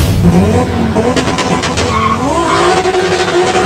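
The Mark 7 project car's engine runs hard at a dyno day, its revving note rising and falling continuously and loudly, with a rough, strained edge throughout.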